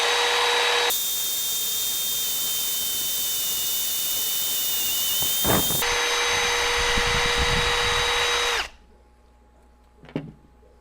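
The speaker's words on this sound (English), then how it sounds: "If you're not used to using a step bit, do not do it like this." A power drill spins a step bit through aquarium glass, giving a loud steady high whine that holds for several seconds, shifts pitch briefly, then cuts off, followed by a short knock near the end.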